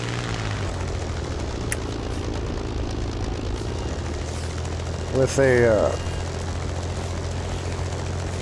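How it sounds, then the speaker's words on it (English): A low-tier German reserve propeller plane circles in a video game with anti-aircraft fire, its engine a steady drone under game noise and a brief voice. "low-tier German plane, looks like a reserve, circling while anti-aircraft shooting at it"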